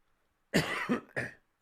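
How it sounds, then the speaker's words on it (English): A single close cough with two or three harsh bursts, followed by quiet. "Excuse me for the cough."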